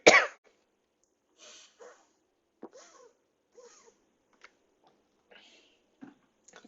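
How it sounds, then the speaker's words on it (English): A person coughs repeatedly indoors: one sharp, fairly loud cough first, then a string of short, quieter coughs and throat-clearing sounds spaced out across the quiet pauses. "I don't know why I'm coughing so much."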